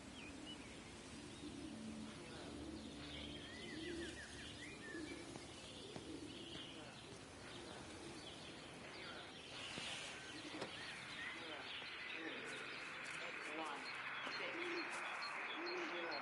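Birds coo and chirp in the countryside ambience of the video game Everybody's Gone to the Rapture, soft dove-like calls and scattered tweets running steadily throughout under faint background sound.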